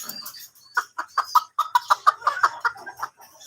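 Golden Sebright chickens on a farm, a run of about a dozen rhythmic close clucks, steady and clear against a quiet background.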